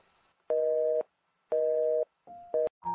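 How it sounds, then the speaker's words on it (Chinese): Telephone busy tone after a call is hung up: two steady half-second beeps separated by half-second gaps, then a shorter, more broken burst of tone and clicks at the end, with no talking. "季半夏看着手中挂断的手机，气得几乎想把它扔出去。"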